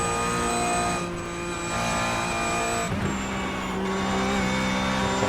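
A Porsche Cup race car engine at VIR holds a loud, steady high-revving drone from close by, with its pitch dipping briefly and then climbing again as the car accelerates on track.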